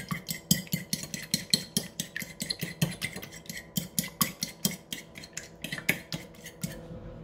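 A fork whisks a single egg in a bowl for Filipino eggplant omelette, giving quick, steady metallic clinks and scrapes in a fast rhythm, close up, with no talking.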